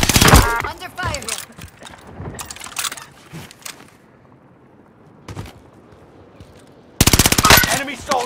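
Rapid bursts of automatic gunfire from a Call of Duty: Modern Warfare match, loud and clustered at the start, a lone shot mid-clip, then a heavy sustained volley at the end, with in-game voice callouts in between.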